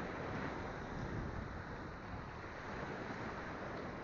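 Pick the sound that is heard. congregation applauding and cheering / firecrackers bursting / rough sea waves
rough sea waves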